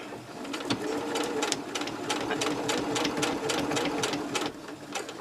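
A sewing machine stitches binding tape around the edge of handmade slippers at a slow pace. The motor hums steadily while the needle taps out a rhythmic clatter, close and even, for several seconds with no talk over it.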